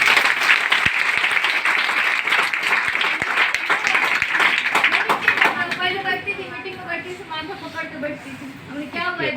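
Audience applause at a meeting hall, a dense burst of clapping that fills the first half and then fades out as a voice continues speaking over the room.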